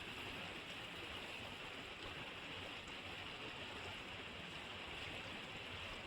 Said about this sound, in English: All the water, it comes down from the mountains, it goes into this river